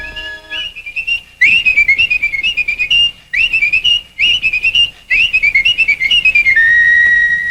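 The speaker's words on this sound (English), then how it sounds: "Only fast whistlers could whistle while they worked." Workers at the 1961 Disneyland construction site whistle a quick, lively tune, with bright warbling phrases in several bursts broken by short pauses and a long held note at the end, loud and close, with no talking.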